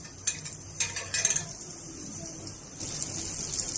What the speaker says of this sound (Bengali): ফ্রাই প্যানটা গরম হলে এখানে আমি কিছুটা বাটার দিয়ে দিচ্ছি।